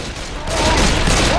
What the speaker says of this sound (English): He's shooting randomly.